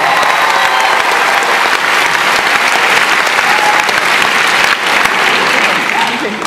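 A large audience at a stand-up comedy show at Wembley claps loudly and continuously, a dense sustained wash of applause that holds steady before easing slightly at the end.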